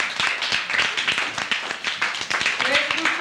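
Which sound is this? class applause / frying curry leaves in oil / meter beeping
class applause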